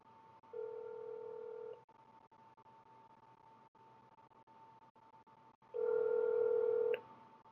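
An outgoing call to a 1-800 number rings back: two faint, steady ringback tones, each over a second long, separated by a quiet gap of a few seconds.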